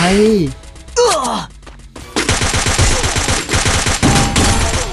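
Gunfire in the battle-royale game Free Fire during a ranked squad match, bursts of rapid shots loud and close from about the two-second mark onward, following a stretch of vocal groans and sighs.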